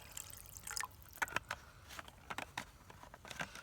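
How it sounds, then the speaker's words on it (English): Water poured into a metal canteen cup until about half full, a faint irregular trickle with scattered drips and splashes, close by and alone without talk. "let's add some water to our Canteen Cup. Fill it up about halfway."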